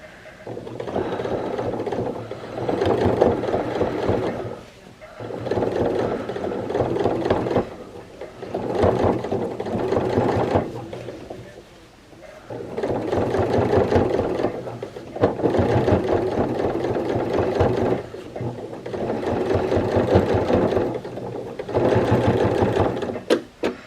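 A sewing machine stitching through thick denim seams on an upcycled jean skirt, rapid mechanical clatter in several bursts with short pauses between runs, close and clear.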